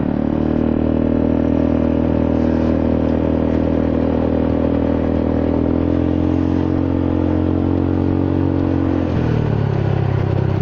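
A Honda Forza 300 scooter engine with a scored cylinder runs steadily while riding, a loud, close, continuous drone that drops in pitch near the end.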